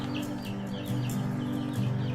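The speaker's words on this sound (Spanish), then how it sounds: "Este vecino cría una media de 100 gallinas con métodos ecológicos." Chickens of a native breed, raised organically, cluck softly and steadily nearby, short repeated calls over a low farmyard hum, with no one talking.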